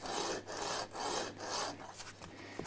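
Steady rasping strokes of sandpaper rubbing over wood, several back-and-forth passes in a regular rhythm, close and fairly quiet.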